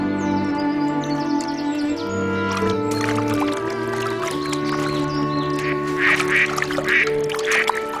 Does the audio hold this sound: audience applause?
no